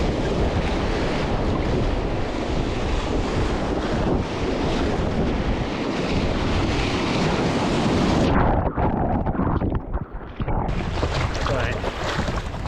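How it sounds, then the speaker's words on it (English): Ocean waves wash around a small inflatable Intex Excursion kayak at sea, a loud, continuous churn of water and surf with heavy wind buffeting the microphone and a brief lull near the end. "Try and not get broadside to the waves."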